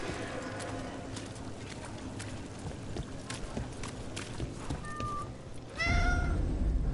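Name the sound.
cat meowing in Dragon Age Veilguard video game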